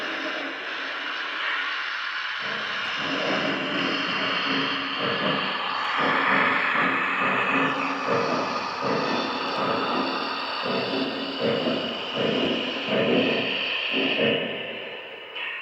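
Lionel Union Pacific 4014 Big Boy model steam locomotive runs with a steady hiss and rhythmic chuffing beats that repeat through the stretch, fairly loud and close, with no talking.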